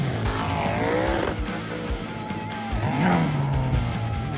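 Monster truck engines roar at a Monster Jam show on a beach, revving loudly and continuously with rising and falling pitch, like hard throttle during runs and jumps.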